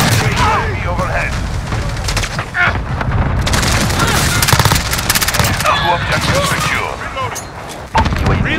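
Call of Duty gunfire fills the scene with rapid machine-gun bursts, single shots and booming explosions, dense and continuous, mixed with game voices calling out.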